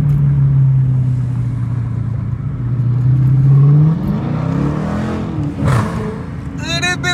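A Dodge Challenger R/T engine roars as its wheels spin in rush-hour traffic, a loud sustained drone that climbs in pitch before easing off, with a voice speaking briefly near the end.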